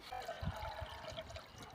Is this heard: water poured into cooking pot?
yes